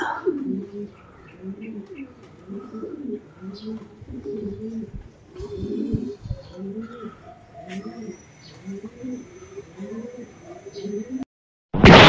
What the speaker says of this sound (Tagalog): taas ang lipad ng mga ibon natin, mga kalapatids.